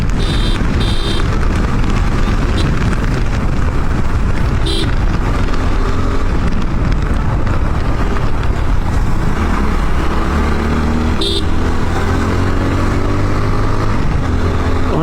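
Motorcycle riding along a road toward Cox's Bazar, with a steady engine drone under heavy wind rush, loud and continuous, and a few faint beeps.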